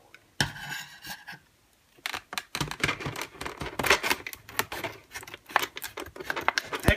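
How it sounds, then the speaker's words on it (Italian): Scissors cutting open the cardboard and plastic packaging of a New 3DS XL Groudon bundle, with close, crisp snips and crinkling scrapes that come in irregular bursts after a short pause. "suppongo che avrò bisogno di un paio di forbici"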